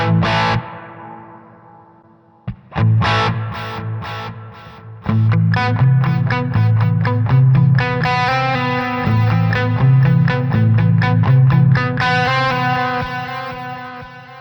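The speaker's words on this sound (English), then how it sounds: "Then I found this awesome ping pong delay." Distorted electric guitar through a Sonicake Pocket Master ping pong delay plays a short phrase, pauses, then launches into a steady rhythmic riff with echoes bouncing back and forth, loud and continuous without voices.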